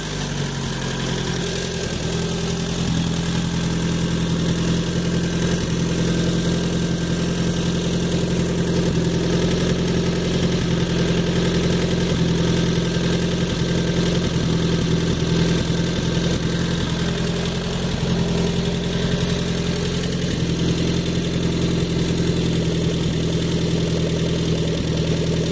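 Engine idling steadily while running on a mix of a little fuel and a little hydrogen from a homemade hydrogen generator, a constant close drone with a low hum and no talk.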